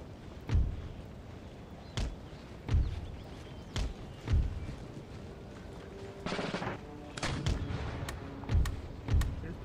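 Musket volleys and scattered gunfire in a battle in Empire Total War sound as sharp booming reports every second or two, with some at mid-distance and a denser burst partway through.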